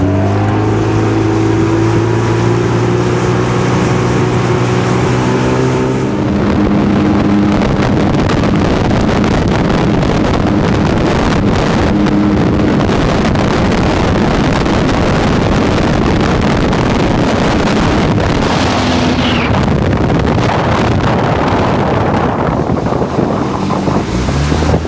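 A Sea-Doo GTX DI personal watercraft idles at low RPM while warming up on the water, a loud droning engine rumble mixed with heavy wind buffeting and splashing water that swells and churns throughout.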